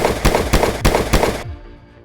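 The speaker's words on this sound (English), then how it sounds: "Gunfire from police ended the confrontation." Dashcam recording of police gunfire ending an armed confrontation with a 63-year-old suspect: five sharp, loud, evenly spaced shots in quick succession, followed by a fading ringing tail with no talk.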